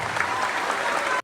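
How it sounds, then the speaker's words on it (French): A brief burst of dense audience clapping, loud and close, cut off abruptly after a second. "Applaudissez-vous encore une fois"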